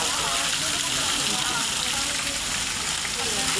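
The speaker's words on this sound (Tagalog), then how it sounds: "Oh, dyan na ang tubig." Water pours steadily into a pool at a hotel resort in Laguna, a continuous broad rushing wash close by, with voices talking over it throughout.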